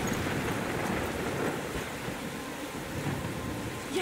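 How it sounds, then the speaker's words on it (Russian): A storm in the video game Life is Strange, with heavy rain hissing steadily and a low rumble of thunder underneath, a dense, unbroken wash of sound with no speech. "Я попала в бурю?"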